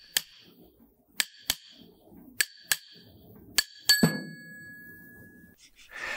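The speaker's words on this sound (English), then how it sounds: "use a hammer to free the ring gear from the carrier" A hammer striking the ring gear on a Dana 44 differential carrier: about eight sharp metallic blows at uneven intervals, close and loud, the last one leaving a ringing tone as the gear comes free.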